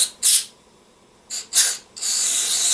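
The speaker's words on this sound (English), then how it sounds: "Get in there and spray that a little bit" Aerosol spray cleaner hissing onto the carburetor of a 1957 Evinrude 3 horsepower outboard motor: two short close bursts, then a longer steady hiss that keeps going to the end, with no talking.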